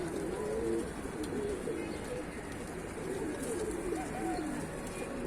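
Pigeons at a loft in Tanta, Egypt coo steadily in a dense, continuous chorus over a constant background rush, with no clear wingbeats standing out.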